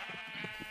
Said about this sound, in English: I've gathered some sheep in here.